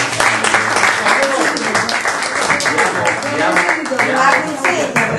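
An audience claps at a talk about discovery, life paths and travel, loud and sustained applause running under overlapping voices and crowd chatter.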